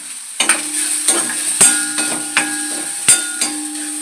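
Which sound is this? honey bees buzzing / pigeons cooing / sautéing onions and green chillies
sautéing onions and green chillies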